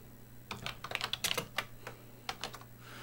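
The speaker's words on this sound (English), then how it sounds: "I'm going to type in new" Keys clacking on a Color Computer keyboard while a BASIC program is entered, a quick run of close, crisp keystrokes in bursts with short gaps, over a low steady hum.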